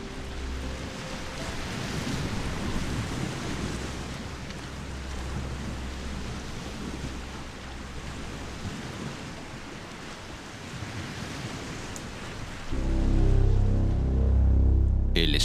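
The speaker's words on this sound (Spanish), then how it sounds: "de las olas." Sea waves break and wash on the shore of a small Balearic islet between Ibiza and Formentera, a steady broadband roar of surf with wind, ending in a louder low rumble near the close.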